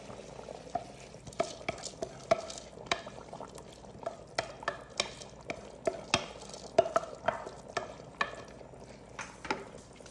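Rice being stirred in a hot pan with chicken juices over high heat, a spatula scraping and clattering in irregular strokes over a steady sizzle, close and without talk.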